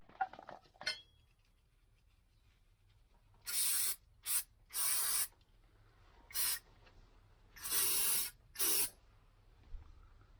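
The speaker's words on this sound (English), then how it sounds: "just oiling it down" Oil is sprayed onto the rear wheel hub of a Lexus RX400h during a wheel bearing and brake shield job, in six short hissing bursts with pauses between them, close to the can, in a quiet workshop.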